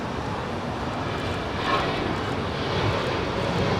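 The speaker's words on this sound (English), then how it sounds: "This is United 1013 departing to Denver." United airliner on its takeoff roll from runway 25 right at LAX, a steady broad jet engine roar that swells slightly midway, heard from a distance outdoors.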